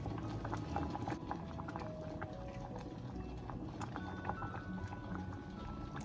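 Chocolate cherry preserves in a pot nearing a boil, a low, steady bubbling and gurgling with soft irregular pops, quiet and close, with no talk.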